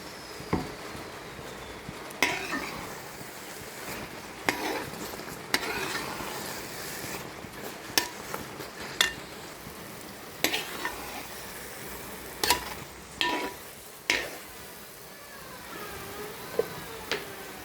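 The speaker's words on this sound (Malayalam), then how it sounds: "ഇത് നമ്മൾ ഒത്തിരി ഇളക്കണം" A thick sweet mixture is worked with ghee in a pan, giving repeated scraping and stirring strokes with sharp clinks and a soft sizzle, steady and close, with no talk.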